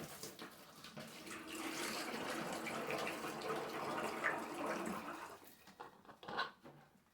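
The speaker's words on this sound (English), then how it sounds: "Put a little bit of water." Water splashes and gurgles as it is poured into a plastic bottle holding granulate, a faint steady trickle lasting several seconds before tapering off into a few soft sloshes.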